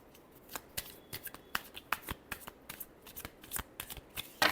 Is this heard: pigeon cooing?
no